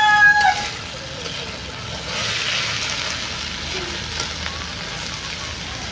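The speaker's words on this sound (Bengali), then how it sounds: "এবার আমি আলু রান্না করা শুরু করলাম। গরম তেলে মশলাগুলো দিয়ে দিয়েছি আমি।" Spices frying in hot oil to start a potato dish give a continuous, even sizzle close by, with a brief tonal sound at the very start.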